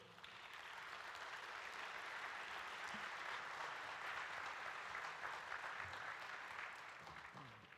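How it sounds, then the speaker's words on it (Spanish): Sustained applause from the audience at an academic lecture welcoming a professor, a steady dense wash of clapping that holds at even strength for several seconds before easing slightly at the end. "Fuerte aplauso para el profesor."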